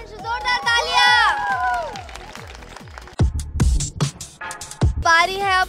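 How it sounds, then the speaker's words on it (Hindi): Young people at a college youth event clap and cheer loudly for the winners of a game, with shouting voices, sharp bursts of claps and excited calls rising over chatter. "जोरदार तालियां।"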